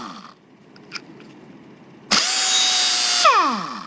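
A Kobalt half-inch air impact wrench running in reverse: after a quiet hiss and small clicks, the tool bursts into a loud, sustained pneumatic whine with a steady pitched tone, then winds down with a falling sweep.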